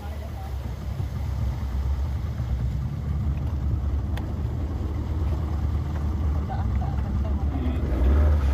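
A speedboat engine idles steadily at a riverside fuel stop, a low continuous rumble with water and ambient noise, and people talk faintly in the background.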